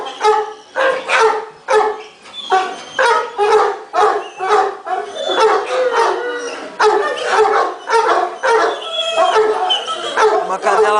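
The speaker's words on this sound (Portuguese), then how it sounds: "Uma cadela mais antiga" An older female molosser guard dog, about six or seven years old, gives a close, loud run of repeated barks mixed with yelping, howl-like cries that continue steadily throughout.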